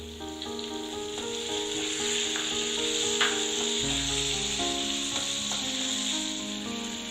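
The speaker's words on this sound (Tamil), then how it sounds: "தக்காளியும் இந்த அளவுக்கு நல்லா வதங்கி வந்ததுக்கு அப்புறமா" Chopped tomatoes sauté in a pan for a South Indian chutney, giving a steady close sizzle with soft stirring scrapes that continues throughout under a faint background hum.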